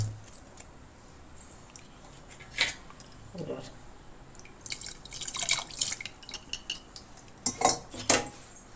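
Brinjal kothsu is mixed in a pan, giving scattered metallic clinks and scrapes of a spoon that grow busier and louder toward the end, over a quiet background.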